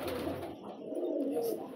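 A pigeon coos softly and close by while being held in the hands, a short low murmuring call with faint handling rustle behind it.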